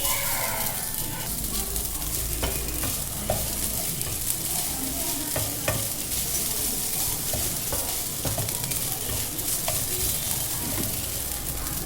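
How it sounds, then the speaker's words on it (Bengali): Boiled pasta is stir-fried in a pan, sizzling loudly and continuously while a spatula scrapes and taps against the metal in an uneven rhythm close up. "পাস্তা দিয়ে আমি আবারও কিছুক্ষণ নাড়াচাড়া করে এটা ভালো করে ভেজে নেব"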